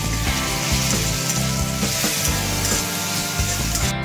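Spice masala with salt and Kashmiri chili powder frying hard in a pan for a stuffed potato curry, giving a dense, close sizzle broken by regular stirring scrapes, with no talking.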